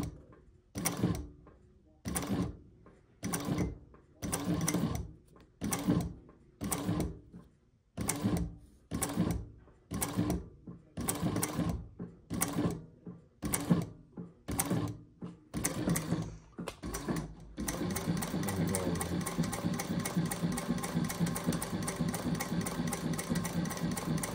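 A heavy Juki DNU-1541S industrial leather sewing machine with a 1.5 horsepower motor runs in short bursts of rapid stitching, repeated many times with pauses, then settles into one long continuous run.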